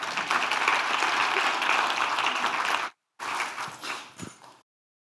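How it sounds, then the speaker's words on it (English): Warm audience applause welcoming a speaker at an executive talk on AI in financial services, a loud dense burst that cuts out briefly, then resumes and fades away. "Let's welcome him with a warm applause."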